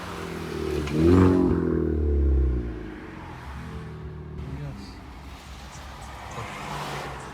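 A Volkswagen GTI drives past on the street. Its low engine rumble swells and then fades over the first few seconds, followed by quieter traffic background and some voices.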